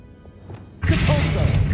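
A Confringo fire spell cast in Hogwarts Legacy hits as a sudden loud whooshing crack, then a sustained crackling, roaring burst that stays loud after a quieter lead-in.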